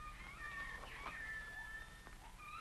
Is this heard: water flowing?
no